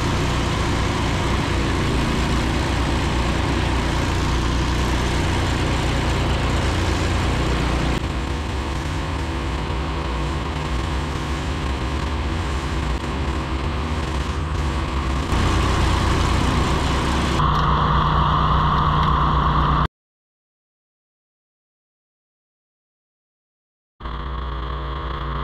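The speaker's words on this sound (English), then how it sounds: "I got the tractor and the blower running" Kubota tractor running with a BercoMac snow blower attached, a loud, steady engine drone with blower whine that continues evenly, then cuts out briefly before resuming.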